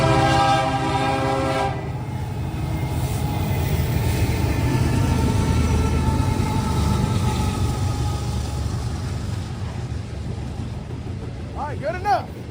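A Norfolk Southern freight train led by an SD70M-2 locomotive sounds a loud chord horn at the start, then rumbles past steadily for several seconds, with a brief squealing tone near the end.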